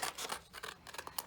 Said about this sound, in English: So watch how I cut along the lines,